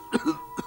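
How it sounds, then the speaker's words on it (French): A puppet bear's short cough in a French children's bedtime show, two quick throaty bursts followed by a third, soft and close in a quiet room. "Mais tu tousses?"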